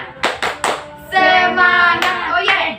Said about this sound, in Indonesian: mari kita bersama-sama melakukan tepukan semangat